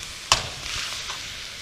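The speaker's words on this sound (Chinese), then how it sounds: "炒起来" Pickled cabbage stir-fried in a pot with wild pickled chilies and dried chilies: a sharp clatter of the spatula, then a steady close sizzle with a few faint scraping strokes.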